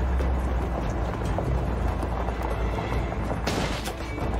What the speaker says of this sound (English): We're taking sniper fire from multiple directions.